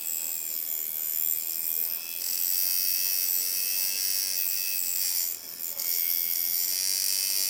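A tuned machine runs steadily at the same supply voltage, giving a high, thin buzzing whine that holds constant, with a brief dip near the end, close and alone with no voices.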